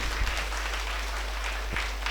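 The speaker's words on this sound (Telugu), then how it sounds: "ఒకసారి గట్టిగా చప్పట్లు కొడదాం" Audience applause at a meditation celebration event at Pyramid Jethavanam, a moderate, steady patter of clapping over a constant low hum, with a couple of louder claps standing out.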